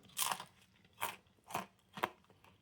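Crunchy bites and chews of a Gustavo Gusto Due Salame e Prosciutto pizza with salami and ham, four distinct close crunches spaced evenly, alone without talk.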